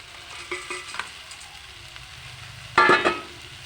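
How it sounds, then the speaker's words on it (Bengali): Red amaranth greens and lentil dumplings dropped into hot oil in a pan, giving a soft sizzle with light stirring taps, then a sharper burst of frying near the end. "এবারে লাল শাক আর বড়িটা দিয়ে দিচ্ছি।"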